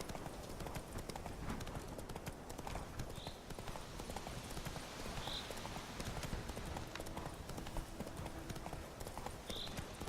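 A horse gallops across open ground in The Witcher 3: Wild Hunt, its hooves making a steady, continuous clip-clop throughout, with a faint game soundscape underneath.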